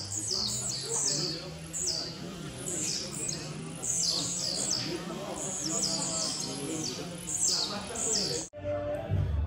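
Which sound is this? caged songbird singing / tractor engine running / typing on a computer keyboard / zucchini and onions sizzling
caged songbird singing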